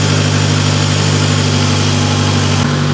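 A Mitsubishi Lancer Evo 8 engine idles steadily while warming up at close range, a constant low rumble with a brief dip in tone near the end.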